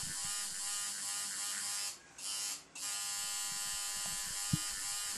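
A tattoo machine buzzes continuously while shading, cutting out briefly twice before resuming its steady electric hum up close.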